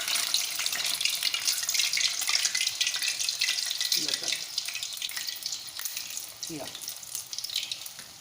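Urad dal vadas with masala sizzle in hot oil, a steady broadband crackle and bubbling that continues throughout, with a brief spoken remark over the frying and a couple of soft clinks.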